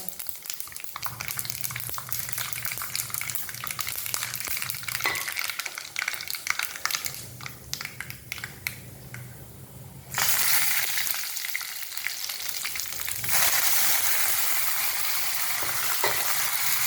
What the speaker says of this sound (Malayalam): എണ്ണയിലോട്ട് കടുക് ഇട്ട് കൊടുക്കാം കടുക് പൊട്ടിയിരുമ്പോൾ നമുക്ക് വേപ്പലയും മല്ലിയാൽ ഇട്ട് കൊടുക്കാം